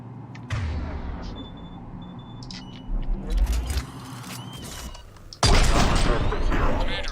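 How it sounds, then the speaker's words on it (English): Heavy cannon fire in the sci-fi game Mass Effect 3 booms in suddenly after mechanical clanks and rumbling, then continues as a loud, sustained barrage close at hand. "The cannon fire is clearing the way."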